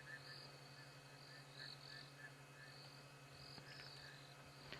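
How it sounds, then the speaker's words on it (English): Frogs or toads call at night in a Kenyan game reserve. Faint, repeated chirping croaks pulse over a steady hum of insects and a low background drone. "let's leave these frogs then, because I think they've had enough of us watching them"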